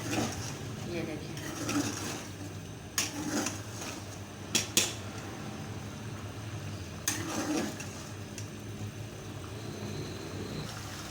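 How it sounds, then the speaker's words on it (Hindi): Meat and turnip curry with yogurt being stirred and fried over high heat in a pot, with a steady low sizzle, scraping and a few sharp clinks of a spoon against metal, and a voice talking quietly over it. "अब हम इसको अच्छी तरह से तेज़ आंच पे भून लेंगे"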